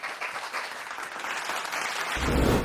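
A school audience claps for a student speaker at a speech event, the applause steady and dense from start to finish and swelling louder near the end.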